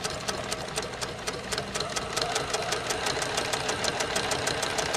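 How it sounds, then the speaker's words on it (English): A sewing machine stitches quilt binding with a steady, fast run of close needle strokes over a continuous motor whir, loud and even throughout. "I'm going to begin stitching. I'll go ahead and back stitch."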